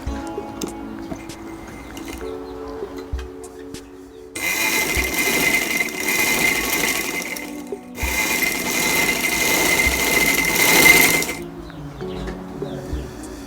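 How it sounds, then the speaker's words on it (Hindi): A sewing machine stitches the shoulder seams of a sleeveless ladies' shirt in two loud, steady runs of several seconds each, split by a short pause, with quieter handling sounds before and after. "ये हम पहले कंधे की सिलाई कर लेंगे।"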